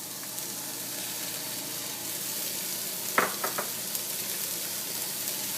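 Chopped vegetables and onion frying in a pan for a veggie omelet, a loud steady sizzle throughout, with a short cluster of utensil clicks near the middle.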